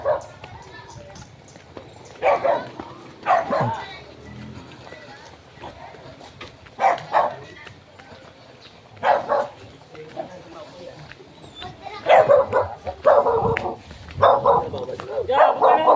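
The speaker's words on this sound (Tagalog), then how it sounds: "May aso." A dog barks in short bursts on a roadside in Tayabas, Quezon, with several loud yaps spread across the scene while people talk nearby and hooves clop in the background.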